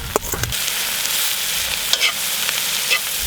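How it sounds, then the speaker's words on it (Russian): Onions frying and being stirred in a pan over coals, a steady close sizzle with brief scraping stirs and small pops, no voices. "добавляю остатки лука"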